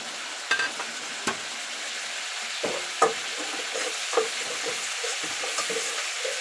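Onion sizzles in hot oil in a pan, a steady frying hiss broken by several sharp clacks and scrapes from a stirring utensil, close by with no talking.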